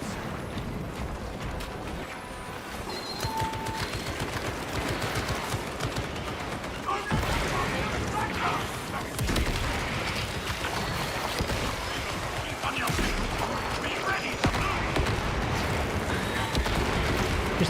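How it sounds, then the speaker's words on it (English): Rapid gunfire and explosions crackle nonstop through a video game battle with Mechanicus units, dense bursts and booms layered thickly for the whole stretch, loud and busy throughout. "Just explosions everywhere."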